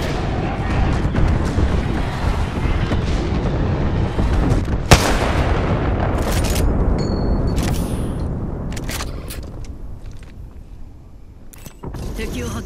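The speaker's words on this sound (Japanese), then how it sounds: "空爆の合図を送る。" Airstrike bombardment in Apex Legends: a dense rumble of heavy, rolling explosions with a sharp blast midway, then sparser cracks and thumps as the barrage thins, under occasional game voices.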